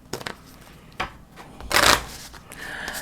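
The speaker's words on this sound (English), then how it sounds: "Recycle bin gets shuffled back into the deck." Deck of cards from the board game Empires in America shuffled on a table, with crisp riffling bursts and a longer loud riffle in the middle, close and clear with no talk.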